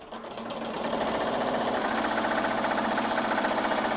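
Embroidery machine stitching a name onto a thick appliqué bag tag patch, a rapid, even mechanical chatter that starts up and holds a steady fast rhythm, close and alone.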